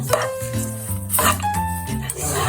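Ground chana dal frying and being stirred in a pan for halwa, a close, steady sizzle with scraping and stirring sounds.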